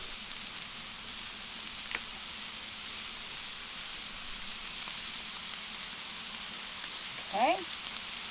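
Sausage sizzling on a flat top griddle, a continuous close hiss and crackle of frying that holds steady from start to finish, with a brief squeaky scrape near the end.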